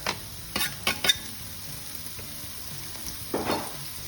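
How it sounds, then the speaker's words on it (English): Onions go into hot olive oil in a pan and set off a close, sharp sizzle. Quick clatters and bursts come as they are pushed around, then a softer steady frying hiss carries on with no voices. "olive oil in. We're going to go in with our onions"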